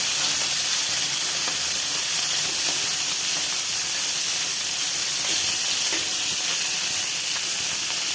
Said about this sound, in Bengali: তো সব কিছু মাছ দিয়ে আমি এক এক করে ভেজে নেব।